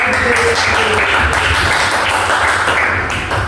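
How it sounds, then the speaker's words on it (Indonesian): A school audience of students claps at an assembly, a loud, continuous crowd of hands with a few sharper taps, holding steady before easing slightly at the end. "kita berikan tepuk tangan dulu"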